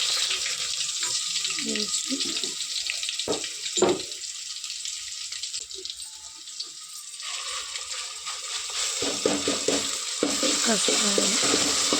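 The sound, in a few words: ginger garlic paste frying for chicken bagara rice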